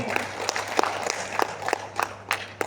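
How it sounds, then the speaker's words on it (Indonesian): An audience claps for a teacher at an Indonesian teacher-education session, a dense, slightly uneven patter of hands with a few louder claps, over a steady low hum. "tepuk tangan buat Bapak ini"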